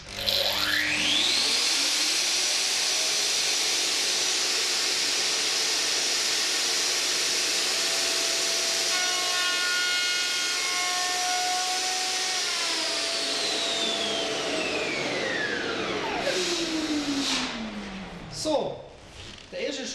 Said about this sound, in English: I mill in with the router and lightly cut in from the side.